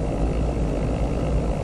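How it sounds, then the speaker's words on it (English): Cessna 310 twin-engine plane in a flight simulator game, a steady low droning engine hum that stays constant and fairly loud throughout, with no talking over it. "You're about to hear how good these engine sounds are on this plane."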